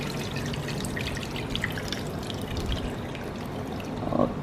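Water from boiled chicken poured through a strainer, a steady trickling and splashing stream at moderate volume with a brief louder splash near the end, no voices.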